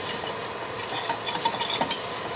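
A whisk working flour into pan liquid from a beef pot roast, a continuous close scraping and swishing with small rhythmic clicks against the pot, steady and moderately loud.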